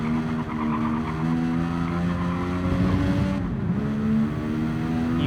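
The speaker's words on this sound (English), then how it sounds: "Dinosaur is now in the pit lane, currently getting a change of tires." A race car idles and creeps through the pit lane at Suzuka in a racing video game, its steady harmonic engine drone holding a constant pitch with a brief dip midway, close and continuous throughout.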